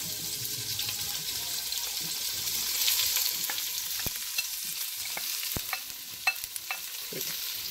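Green onions fry in a pan for risotto with mushrooms, a soft sizzle broken by scraping stirs and sharp spoon clicks against the pan, close up, with running water faintly in the background.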